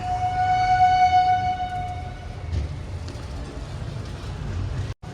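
The Tungabhadra Express pulls out of Kurnool, its horn sounding a long, loud, steady blast before giving way to the low rumble of the moving train.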